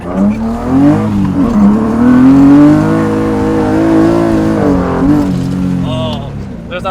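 A BMW E30 with a swapped S52 engine and individual throttle bodies accelerating, its intake note climbing and wavering through the revs close by, with people talking over it.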